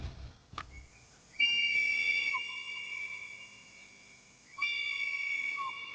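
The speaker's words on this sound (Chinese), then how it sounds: "你们有没有听到哨声啊？" A shrill emergency whistle from a survival kit blows in a snowy film scene, two long piercing blasts following a brief knock, each sustained for a couple of seconds, loud and clear with no talk.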